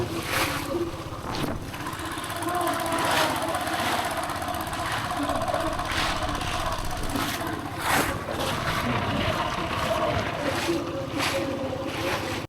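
A small fishing boat motors along a coast off Trat, Thailand, in strong afternoon wind, with a steady engine drone under constant wind buffeting and water noise close to the microphone.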